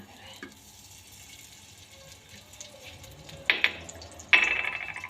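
Desi ghee goes into a hot pressure cooker with a quiet background hiss, then two sharp bursts of sizzling, the last one loud and crackling as it fades.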